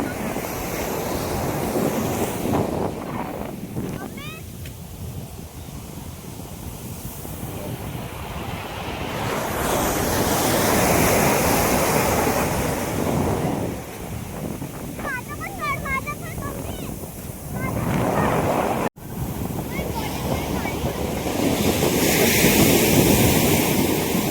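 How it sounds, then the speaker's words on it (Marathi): Ocean waves roll and crash on Khavane Beach in repeated surges, with wind buffeting the microphone and occasional voices in the distance. "आम्ही या समुद्रकिनाऱ्या लाटांचा आस्वाद घेतो आहे"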